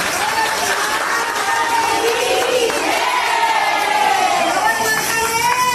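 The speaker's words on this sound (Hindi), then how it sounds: "गौर माता की जयकार के साथ में बहुत बहुत आभार व्यक्त करें और तालियां की जो गड़गड़ाहट" A crowd at a gathering for a Gangaur songbook launch cheers and shouts loudly without a break, a dense, continuous roar of many voices that keeps going throughout.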